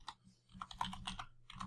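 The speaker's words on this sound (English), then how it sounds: "So for this, we'll just type in" Quiet typing on a computer keyboard, a quick irregular run of light clicks and taps close by over about two seconds, with no talking.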